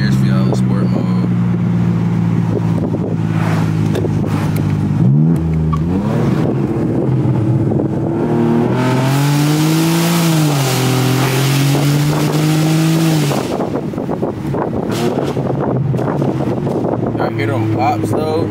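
A car engine revs hard in sport mode, running up through the gears with rising and falling pitch sweeps and crackling exhaust pops, loud and close under a steady wind and road rush.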